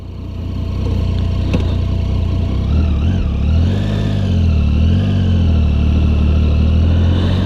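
A 2016 Triumph Tiger 800XC motorcycle engine runs steadily and loud up close, its low rumble rising and falling through gentle revs, with no talking.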